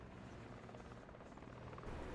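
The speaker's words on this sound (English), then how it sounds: "That's enemy chopper." An enemy helicopter flies over a desert battlefield in the Squad video game, a low, steady rotor thrum and whine that holds and swells slightly toward the end, faint and without talking.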